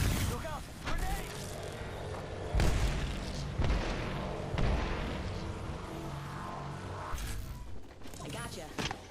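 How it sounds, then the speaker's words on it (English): A grenade detonates during a duos ranked battle royale match, a deep boom followed by gunfire and further blasts, loud and close amid game effects while players talk over it. "Look out! Grenade!"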